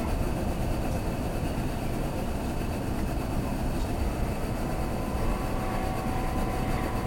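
Kintetsu limited express train bound for Osaka Namba pulling away in a typhoon, a steady broad roar and rumble heard from inside the carriage with no voices.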